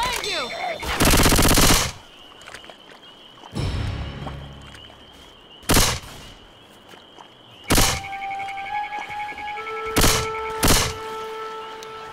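Bursts of automatic gunfire in Left 4 Dead 2 on The Last Stand in Realism mode, several loud rapid-fire volleys separated by quieter gaps, mixed with a car alarm-like tone and game sounds.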